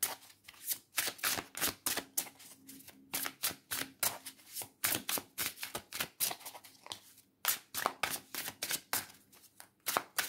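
Tarot cards are shuffled by hand in rapid, crisp riffling bursts with brief pauses between them, close and fairly quiet, with no voices.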